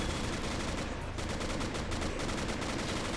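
StuG assault guns and other weapons firing in a World War II winter town battle game, a thick, continuous roar of rapid gunfire with bursts layered densely throughout.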